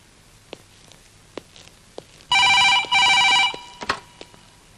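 An indoor telephone rings in two bright, loud electronic bursts, each about half a second long, separated by a brief gap. Faint scattered knocks and footsteps come before and after the rings.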